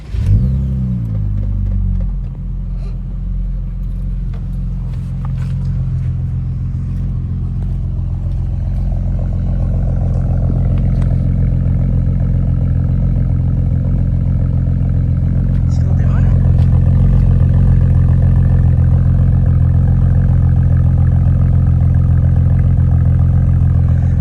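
An Acura TL engine cranks and catches after a spark plug change, then settles into a steady, loud rumbling idle close by that rises a little near the end, with faint clatter over it.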